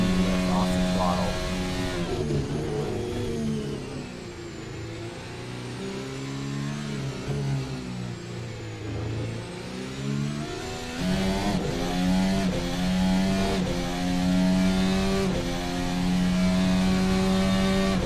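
Race car engine at Silverstone revving hard through gear changes, holding second gear with a brief throttle lift near Abbey; loud, steady in-car engine drone with rising and falling pitch and a sharp shift near the end, with a voice talking over it.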